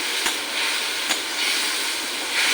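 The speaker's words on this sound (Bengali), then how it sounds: "রসুন পেঁয়াজ দিয়েছি দেখো আমার মশলাটা কি সুন্দর ভাজা ভাজা হয়ে গেছে" Masala frying with garlic and onion gives a steady, fairly loud hiss, broken by a couple of sharp clicks.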